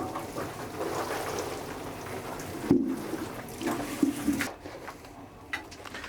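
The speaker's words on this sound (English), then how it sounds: "give them a good water as well" Water pours onto freshly sown seed trays in a greenhouse, a steady trickling spray with a few louder splashes and drips, close by and without speech.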